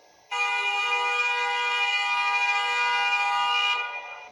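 A car horn blares at a pedestrian standing drunk in the middle of a street and blocking traffic, one loud sustained blast of about three and a half seconds that sounds alone and close by.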